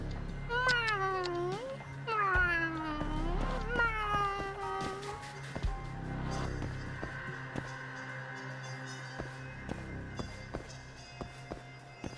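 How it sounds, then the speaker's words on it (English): A stray cat in the video game Judgement gives three clear, drawn-out meows in quick succession, followed by softer game ambience with faint rhythmic footsteps and scattered small sounds. "Oh, look, a cat."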